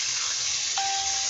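Water poured into a pan of frying onion and ginger spice paste sets off a steady loud hiss of sizzling, close up and continuous, with a brief higher ringing tone partway through.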